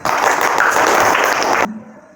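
A burst of clapping from a class of sixth-grade students, dense and loud for under two seconds before cutting off abruptly into near silence.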